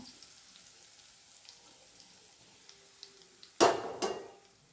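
Ground coriander thokku spice powder hits hot oil in a pan, giving a sudden sharp sizzle and stir scrape near the end after quiet faint kitchen background, close and fairly loud.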